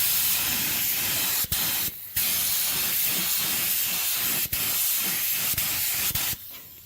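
A spray gun applying Cerakote coating to an exhaust system hisses steadily in long continuous bursts, with a few brief pauses and clicks as the trigger is released.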